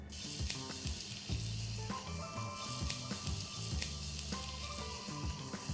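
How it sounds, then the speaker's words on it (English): Sliced onions sizzling in hot ghee for Mangalorean chicken sukka, a steady crackling fry with faint musical tones playing underneath throughout. "Once the ghee begins to heat up, let's add in sliced onions."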